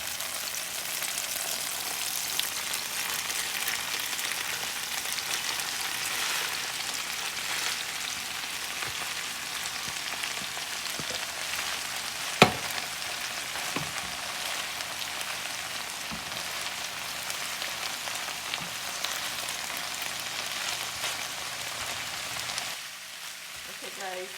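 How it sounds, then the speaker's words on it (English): Cabbage and saltfish sizzle and fry in a pan, a steady close crackle with occasional stirring taps and one sharp clink, continuing almost unchanged throughout. "now it's time to put the cabbage in."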